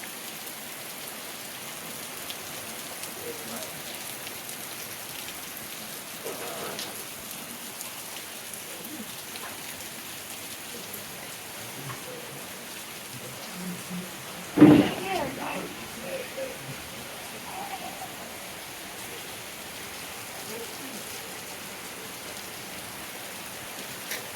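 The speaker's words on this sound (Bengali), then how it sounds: "বৃষ্টিটা হচ্ছে ভালোই হচ্ছে" Steady rain falls outside, pouring off a rooftop and pooling on a flooded street, a soft continuous wash with a single louder knock partway through.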